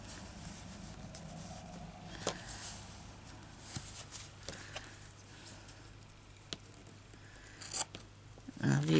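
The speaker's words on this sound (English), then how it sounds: "You shouldn't be cutting things with these tiny scissors," Quiet, close snipping and rustling of small scissors working through cloth while making a small book, with soft scattered clicks and light handling noise.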